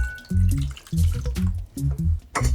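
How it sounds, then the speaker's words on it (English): Water is poured from a cup into the outer pot of a Tatung rice cooker, producing close, bubbly glugs and splashes in several uneven bursts over a couple of seconds. "So I'm gonna scoot this over and pour 1 cup of water on the outside."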